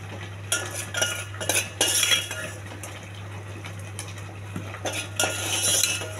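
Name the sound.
tempering added and stirred into boiling pongal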